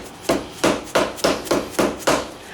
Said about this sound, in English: take a dead blow or your hammer and go gentle with it, and just hold one side, tap it in